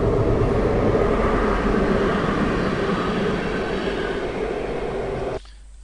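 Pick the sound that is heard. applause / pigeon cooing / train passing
train passing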